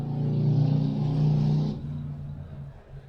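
A motorcycle engine revs loudly at night in a town, holding a steady drone that then drops to a lower, quieter rumble as it moves away.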